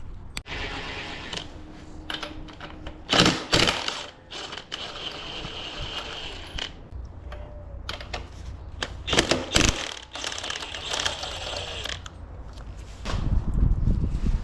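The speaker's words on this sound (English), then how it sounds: "All right, we need to take off these bolts." Bolts come off an electric scooter wheel during a street tire swap, with repeated ratchet clicking, wrench bursts and metallic handling clunks at close range and no speech.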